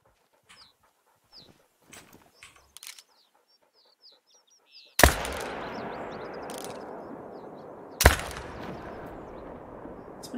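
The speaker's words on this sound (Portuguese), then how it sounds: "Esse primeiro tiro, será que pegou na árvore?" A hunting video game rifle, a .308, fires two loud sharp shots a few seconds apart, each with a long decaying echo, after sparse bird chirps.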